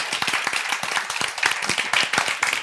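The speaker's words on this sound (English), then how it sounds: "Małgorzata, Lorena, Alex, big round of applause." An audience at an agrifood summit claps steadily, a dense run of close, sharp handclaps without a break, brief and lively.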